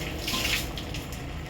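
Water poured into a pressure cooker for egg biryani, a brief, close, splashing stream of liquid with no talking.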